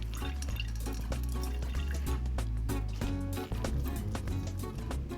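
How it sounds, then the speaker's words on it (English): Liquid squeezed out of wilted cucumber, trickling and dripping steadily close by with small splashes, a wet continuous flow. "my cucumber is nice and wilted and ready to squeeze"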